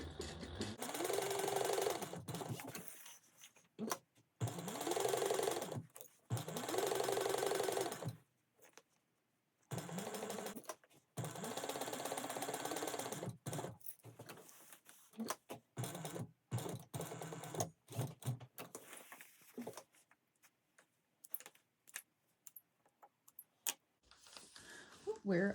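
A home sewing machine stitches a seam in repeated bursts, each a few seconds of rapid mechanical whirring and clatter separated by pauses, then shorter stop-start runs near the end, with no talk over it.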